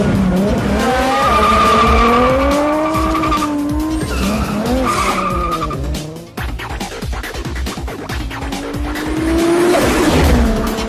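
A Ferrari in a PS4 video game starts and revs, its engine tone climbing and falling in pitch through several loud, close revs, with squealing, skid-like tones and a brief dip midway.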